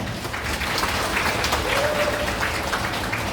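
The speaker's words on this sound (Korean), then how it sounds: "큰 박수 보내드리겠습니다" Guests at a wedding ceremony in a wedding hall applaud continuously, a thick wash of clapping that holds steady throughout with faint crowd murmur underneath.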